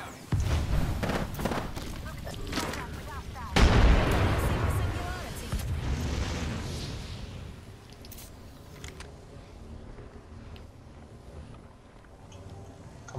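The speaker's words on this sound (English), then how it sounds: "Threw my grenade out!" A grenade blast booms in a shooter video game amid scattered gunfire, one heavy close explosion followed by a long rumbling decay, with players talking over the action.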